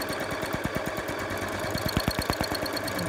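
A sewing machine stitches in the ditch while quilting granny squares, its needle pounding in a rapid, regular mechanical rhythm that runs steadily and close, with no talking.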